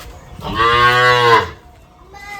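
A single loud, deep moo from a bull, close by and lasting about a second, followed by quiet.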